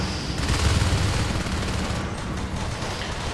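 Rapid shotgun fire in the multiplayer shooter Natural Selection 2, with marines rushing aliens; dense, overlapping blasts pile up steadily throughout, loud and continuous with no pauses.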